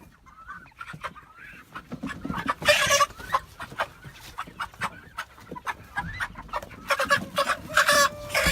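Chickens cluck repeatedly on a farm, a run of bursts with louder flurries, close by and with no one talking.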